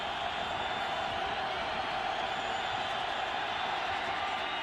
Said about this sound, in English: Here's the crowd on 3rd and 18.